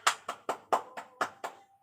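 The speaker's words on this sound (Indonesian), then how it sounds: "Yuk tepuk tangan terlebih dahulu." A classroom group claps in unison, seven sharp, evenly spaced claps in quick rhythm, close and fairly soft, then silence.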